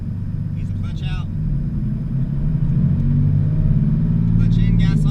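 A manual transmission car pulls away in first gear with a steady low engine rumble that builds slightly as throttle is applied, while a person talks over it.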